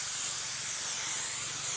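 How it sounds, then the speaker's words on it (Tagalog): A farm power sprayer gives off a continuous hiss, steady and moderately loud for the whole stretch with no voices. "nag-i-spray na naman tayo"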